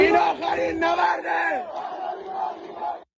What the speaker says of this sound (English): They're chanting in akharin nabarde Pahlavi barmigerde, which means that this is the final battle.